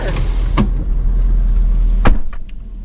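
A pickup truck idles with a low, steady engine rumble as it is parked beside an RV, with a couple of brief clunks and a louder knock near the end; no speech.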